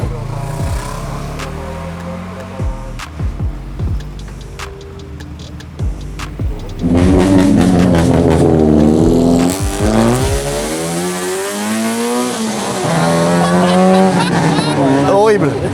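A Liberty Walk modified car revs hard and accelerates away at a big Japanese car meet, loud sharp revs rising into a sustained engine howl with tire noise, while other engines and excited voices sound around it.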